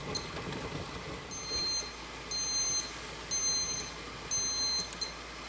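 A kitchen timer alarm sounds over a stovetop where apples are being cooked for homemade applesauce, four evenly spaced bursts of rapid high beeping rising above a low kitchen background, with no one speaking.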